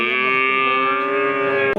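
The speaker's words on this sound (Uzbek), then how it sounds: "Ikkalasi ham ho'kiz buzoqchalar" Bull calves at the Shakarqamish cattle and sheep market in Oltinsoy district give one long, loud, sustained moo close by, with a brief break near the end.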